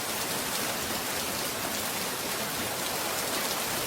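Steady, dense rain pours down without pause in a cartoon scene, a loud even hiss of drops on surfaces filling the whole stretch, with no voices.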